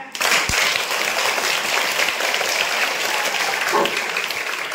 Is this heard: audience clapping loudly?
yes